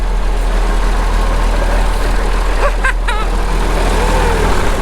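Payloader engine idling on a farm, a loud, steady low rumble that holds throughout, with faint higher squeaks partway through.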